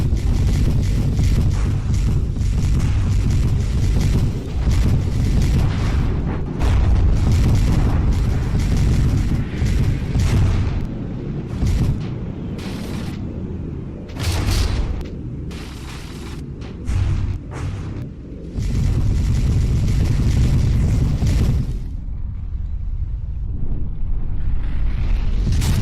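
Gunship firing and explosions in the From the Depths naval combat game, loud rumbling booms and blasts in repeated bursts with brief quieter gaps, dense and continuous over the whole stretch.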